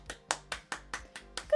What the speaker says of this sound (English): I'm clapping far away from the mic so that hopefully it's not too loud